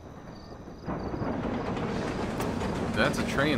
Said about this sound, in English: That's a train that's coming right at you.